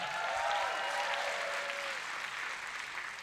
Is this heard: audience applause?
yes